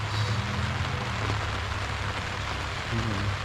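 Rain falls steadily on a family farm cemetery, a dense even patter close by, with faint low hum in the background.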